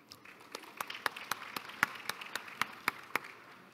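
An audience at a housing-policy concert talk claps to welcome a panelist, about a dozen distinct, evenly spaced claps that sound sparse and fairly faint rather than like a full crowd.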